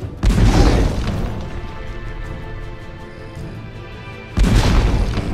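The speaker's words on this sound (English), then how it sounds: "Blast them a couple of times with the cannon." Two heavy booming cannon blasts in the video game Age of Wonders III, one at the start and one near the end, with a rumbling, crackling tail sustained between them.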